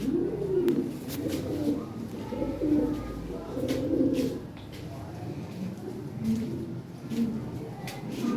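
Large Lahori Shirazi pigeons coo in low, soft, rolling phrases, repeating over several seconds with faint background noise.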